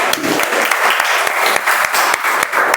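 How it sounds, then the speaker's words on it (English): A roomful of people at a Toastmasters meeting clap for a speaker, with loud, dense, continuous applause and sharp individual hand claps standing out throughout. "please give a big round of applause to our speaker, Toastmaster Anjani Kumar."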